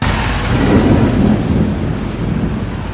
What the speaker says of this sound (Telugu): ఉరుములు, మెరుపులతో కూడిన వర్షం కారణంగా ప్రజలు ఇబ్బందులు పడ్డారు